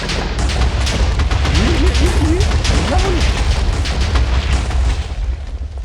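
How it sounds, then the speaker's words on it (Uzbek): A loud, rumbling blast-like roar of a TNT explosion in Minecraft sustains throughout, with a few short whistling tones rising over it midway. "Boyagi timer TNTimiz ham portladi."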